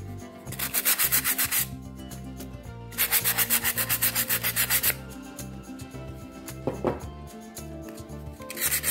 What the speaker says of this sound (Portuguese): Pode lixar em cima se quiser